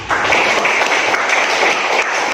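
A classroom full of children claps in dense, steady applause, loud and close, lasting the whole moment without a break.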